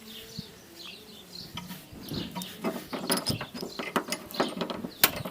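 Ratchet clicking in short, uneven bursts while a 12 mm bolt is tightened on a side step bracket of a Nissan Qashqai J11, close and moderately loud, with light metallic handling noises between strokes.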